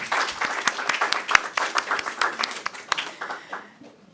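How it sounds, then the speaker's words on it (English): Audience applause at a conference final event, a crowd clapping for the speakers and coordinators with dense, uneven claps that taper off toward the end; no talk over it. "a big applause for our speakers and coordinators"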